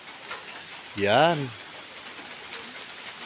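Steady rain hisses on a gloomy, overcast midday after a heavy downpour, a soft even wash throughout, with a short spoken word briefly rising over it.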